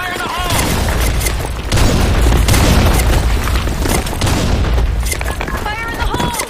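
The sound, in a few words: grenade explosion in a video game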